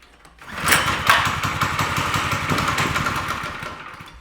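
A racing kart engine with a sticking throttle starts up and revs hard, buzzing loudly and close, holding a high, rough drone for several seconds before easing slightly.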